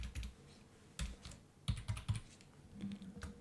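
Typing a number on a computer keyboard, with a run of distinct close key presses and clicks in irregular bursts, heard alone without speech.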